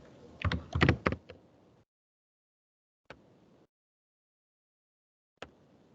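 A burst of computer keyboard typing, a quick cluster of close keystrokes over about a second, followed by silence and two isolated single clicks later on.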